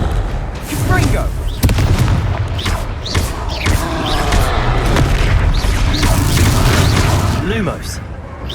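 Confringo fire spell blasts in the Hogwarts Legacy video game, loud booming explosions layered over continuous battle noise, with a voice shouting spell names among the impacts.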